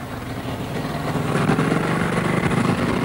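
A motorcycle engine idles steadily at close range, a low rumbling putter that holds an even level throughout.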